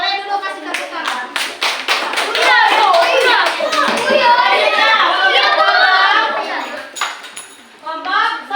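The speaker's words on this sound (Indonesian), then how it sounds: "So, boleh dulu kasih tepuk tangan." A class of children claps in a school lesson: quick bursts of close applause at the start and again near the end, with loud children's chatter filling the middle.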